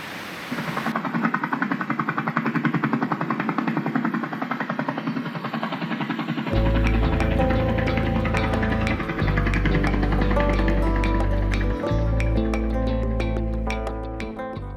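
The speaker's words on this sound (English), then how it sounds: "the drone's up" A camera drone flies at St Columbia Falls in Tasmania, a steady loud whirring hum that shifts partway through into a stronger, tonal motor drone with layered pitches, continuous and with no speech.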